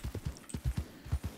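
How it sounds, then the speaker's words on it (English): Hooves of a large horse clip-clop in a western game world, a steady run of close, distinct hoofbeats, roughly eight strikes in quick rhythm with no voices. "So this big old monster of a horse is Gwaine."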